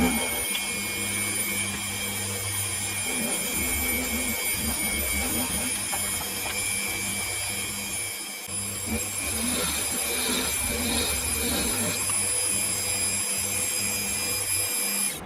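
A part being machined on a homemade tool and cutter grinder, a continuous close mechanical whir and grinding rasp at an even level, with a short break partway through before the cutting resumes.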